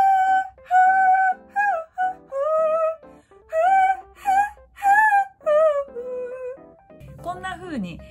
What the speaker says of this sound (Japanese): ホイッスルボイスなんて言い方をしますが、